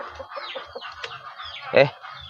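KUB chickens, an Indonesian native breed, cluck softly in the background while a person talks, with one louder squawk standing out briefly.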